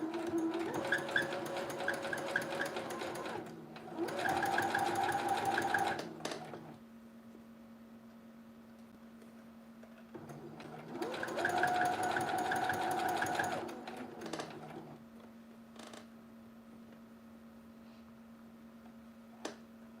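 A sewing machine stitches a red dress at stitch length 3 in two loud bursts of steady rapid whirring, each about three seconds long, with quiet pauses and faint handling clicks between them.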